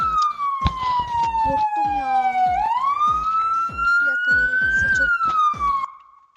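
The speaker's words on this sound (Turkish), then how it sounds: "Ne ağzımın dibinde siren açıyorum." A wailing police-style siren from a Roblox video game rising and falling steadily, loud and close, with broken bursts of other noise underneath before it cuts off.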